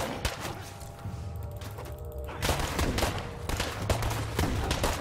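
Bursts of gunfire in the zombie survival game State of Decay 2, loud and dense with repeated sharp shots and thuds filling the whole stretch, heaviest in the second half.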